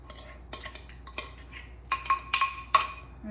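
Spoon clinking against a bowl while sugar is mixed into pumpkin pie filling, several sharp metallic taps and scrapes, near and moderately loud, the strongest taps coming in the second half.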